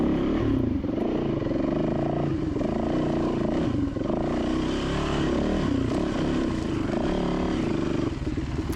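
A dirt bike engine on a wooded trail at Silver Lake, revving and surging in fluctuating bursts as it climbs over a fallen log, heard close and loud throughout.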